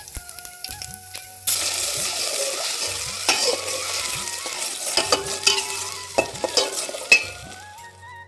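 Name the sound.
cumin and asafoetida sizzling in hot oil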